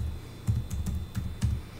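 Quiet, close keystrokes on a computer keyboard as a Linux terminal command is typed: about five soft, irregular clicks with nothing else heard.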